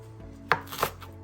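Two sharp knife strikes chop epazote and romaine greens on a cutting board, close and crisp, with a short gap between them and no talking.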